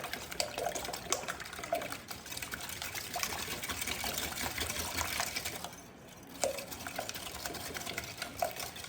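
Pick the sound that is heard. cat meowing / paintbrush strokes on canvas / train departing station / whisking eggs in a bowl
whisking eggs in a bowl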